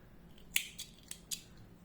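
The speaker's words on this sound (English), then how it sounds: "I am cutting the yarn." Scissors snip crochet yarn from a granny-square beanie in a few quick, soft, close cuts against a faint background hush.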